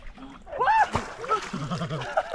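A splash into cold lake water at Abraham Lake, Canada, after a cliff dive, with sloshing, mixed with voices and laughter nearby; brief and moderately loud.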